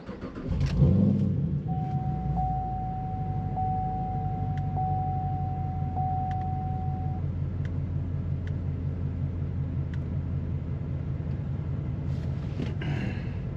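A car engine cranks and catches with a brief roar, then settles into a steady low idle rumble with a faint electronic beep, nearby and continuous without speech.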